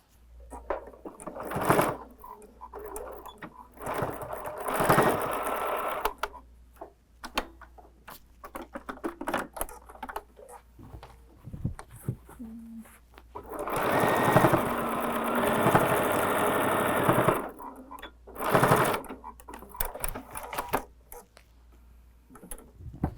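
A sewing machine runs in bursts stitching a quarter-inch seam across a fabric tote bag, a close mechanical whirr that starts and stops with quiet gaps between runs.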